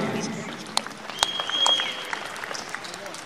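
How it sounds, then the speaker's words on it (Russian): An audience at a mixed martial arts championship medal ceremony claps for the athletes, scattered applause from a moderate distance with a few sharp individual claps, while a voice talks over it. "А мы еще раз аплодируем нашим спортсменам."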